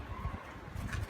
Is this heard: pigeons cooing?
yes